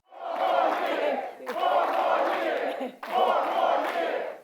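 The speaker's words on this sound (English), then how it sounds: "A crowd of about 100 people cheered and chanted 4 more years at the American Legion Lounge for the First Lady" Roughly a hundred veterans at an American Legion lounge cheer and chant loudly in rhythmic bursts, three sustained crowd swells separated by brief dips.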